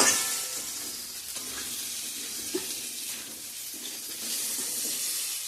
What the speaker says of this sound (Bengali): ডালটা একটু ভালো করে ভেজে নিব